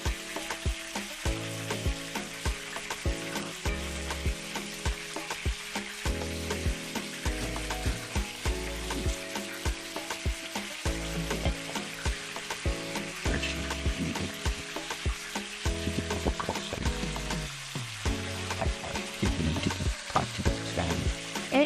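Spices frying in a hot pan, a steady loud sizzle running throughout with frequent rhythmic scraping and stirring strokes, close up with no talking.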